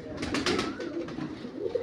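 Pigeons coo steadily on a rooftop loft in Mandi Bahauddin, a soft continuous murmur of overlapping calls with a faint high whistle drifting through, no voices.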